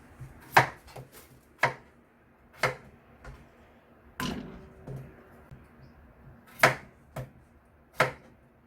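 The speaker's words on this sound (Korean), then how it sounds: "이렇게 해서 한 입 크기 정도로 이렇게 썰으면 좋아요" A knife chops potatoes into bite-size pieces on a cutting board, crisp sharp knocks coming one at a time at an uneven pace, close and clear with quiet gaps between cuts.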